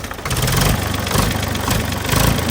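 A 1975 Same Minitauro 60 tractor engine runs steadily close by, a loud, continuous diesel idle with a rough, pulsing low throb and no voices.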